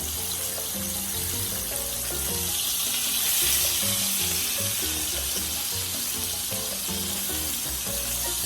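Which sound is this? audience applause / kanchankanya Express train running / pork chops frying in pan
pork chops frying in pan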